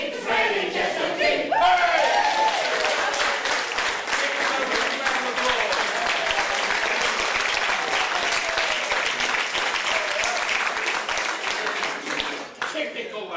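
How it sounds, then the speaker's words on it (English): Sustained, loud theatre audience applause with cheering and whoops from a large crowd at a Robin Hood stage show, continuous throughout. "The biggest round of applause of the night is for yourself."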